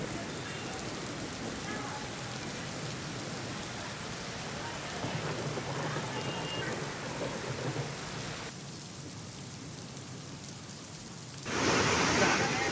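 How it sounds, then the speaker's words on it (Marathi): Heavy rain pours over Vasai Virar in a dense, continuous hiss, steady and enveloping, changing character partway through and swelling louder near the end. "वसई विरार शहरात देखील जोरदार पाऊस झाला"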